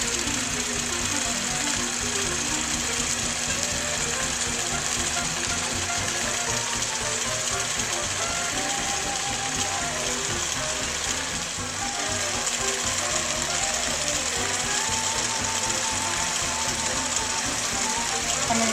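A long-arm quilting machine stitching wiggle and fern patterns along a king-size quilt border, a steady loud mechanical whirring hum with a rapid needle rhythm that runs continuously throughout.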